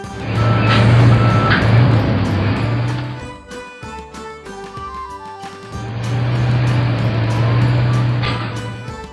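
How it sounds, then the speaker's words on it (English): Reversing beeps from a toy-style forklift, a steady tone that runs for a few seconds, cuts out briefly, then resumes, loud and close under a low vehicle hum, with no talking. "Forklift."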